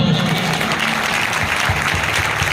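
A church congregation claps hard in unison, a loud, dense burst of applause that carries on evenly from start to end.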